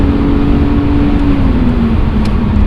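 A BMW 330ci Clubsport driven hard, its engine holding a loud, close, steady drone with a slightly shifting pitch and no talking over it.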